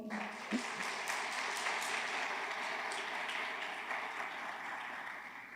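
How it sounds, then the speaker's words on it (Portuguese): A church congregation applauds steadily at a sermon, producing a sustained wash of clapping throughout, with a brief voice near the start. "você pode aplaudir ao Senhor?"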